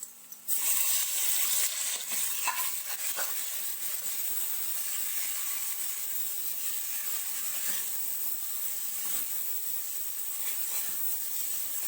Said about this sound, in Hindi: इसको 1-2 मिनट तक यूँ फ्राई करने के बाद इसमें टमाटर डाल देते हैं।